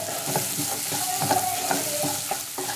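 Sliced onions sautéing in oil with curry leaves and salt for upma, a loud continuous sizzle broken by rhythmic spatula scrapes against the pan.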